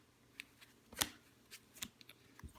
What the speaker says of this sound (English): So I'm going to deal each of us up to 6 cards